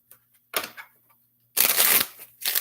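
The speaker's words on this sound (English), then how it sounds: "Hope that's not too loud, me tapping and shuffling." Tarot cards are tapped and shuffled up close in quick papery bursts: a short riffle, a pause, then a longer, louder shuffle and another brief burst.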